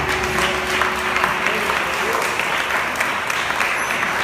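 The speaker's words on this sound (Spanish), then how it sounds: "Dale fuerte palmas al Señor." A church congregation claps steadily and loudly throughout, a dense continuous wash of hands with a crowd murmur underneath.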